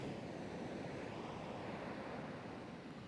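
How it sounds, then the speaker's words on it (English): Ocean waves break steadily onto a sandy beach, a continuous broadband wash of surf with some wind noise, fairly quiet and even throughout with no speech. "it goes down into where the waves are coming up onto the shore"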